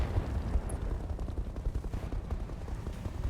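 Mech weapons firing in RogueTech, a dense, continuous barrage of rumbling gunfire and heavy blasts, loud and steady throughout with no voices over it.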